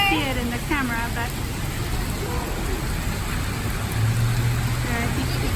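Heavy rain pours down steadily in Denver, Colorado, a dense continuous hiss close by, while people talk over it throughout.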